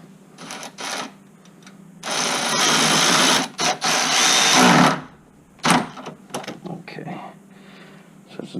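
Power tool whirring in bursts while a ground wire is bolted back onto a 2000-2005 Chevy Impala in a garage, with a long steady run in the middle and shorter spurts around it, close and loud, with someone talking between bursts.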